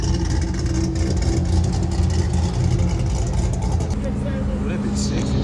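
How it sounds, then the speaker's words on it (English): A turbocharged Chevrolet Camaro at a car meet gives a loud, steady engine roar that holds throughout, with a slight shift in tone near the end, while people talk over it. "That's a damn Camaro"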